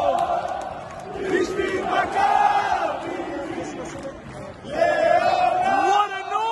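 Maccabi Tel Aviv ultras chanting in unison at Bloomfield stadium during a match against OGC Nice, a loud, dense roar of massed voices swelling and surging, with a commentator talking over it.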